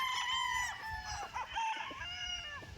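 Gamefowl roosters with freshly trimmed straight combs crow and cluck, several birds at moderate distance overlapping one another, with short calls repeating over soft background noise.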